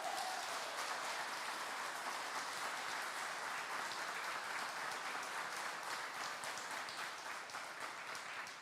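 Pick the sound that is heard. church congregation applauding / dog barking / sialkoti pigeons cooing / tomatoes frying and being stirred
church congregation applauding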